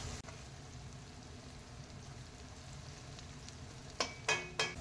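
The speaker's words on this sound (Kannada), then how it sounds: "ಅರಿಶಿನ ಎಲ್ಲ ಕಡೆನೂ ಮಿಕ್ಸ್ ಆಗೋ ಥರ ಈರುಳ್ಳಿಗೆ ಚೆನ್ನಾಗಿ ಫ್ರೈ ಮಾಡಬೇಕು" Onions frying with turmeric in a pan give a soft, steady sizzle throughout, with a few brief stirring scrapes near the end and no talking.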